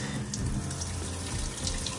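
Water pours from the kitchen tap of a furnished beach house, a strong supply giving a steady, full rushing splash into the sink that runs unbroken and alone throughout.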